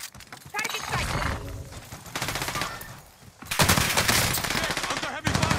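Loud automatic gunfire in Call of Duty Warzone on the Fortune's Keep map comes in rapid bursts, with brief lulls between, while players talk over the shooting.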